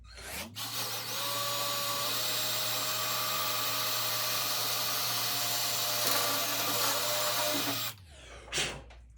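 A drill with a 1/8 inch bit bores holes in the hood of a 1968 Camaro for louver installation, a loud, steady high whine held for about seven seconds before spinning down, close up with no voices.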